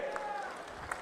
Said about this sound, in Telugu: గట్టిగా మగవాళ్ళందరూ కూడా చప్పట్లు కొట్టి అభినందించండి.